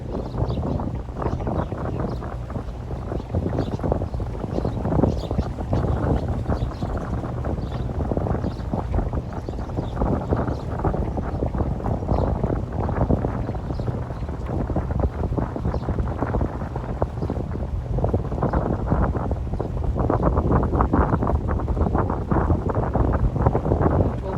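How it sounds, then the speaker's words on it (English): Strong wind rushing over a microphone aboard a sailing boat off the Greek Ionian islands near Kefalonia and Lefkas, a loud, continuous buffeting roar with gusty swells, no speech. "we've got the wind coming up"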